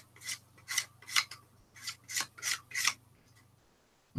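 A cork fishing float is sanded by hand to smooth off small lumps, with about eight quick, rasping strokes in an uneven rhythm, close and fairly quiet.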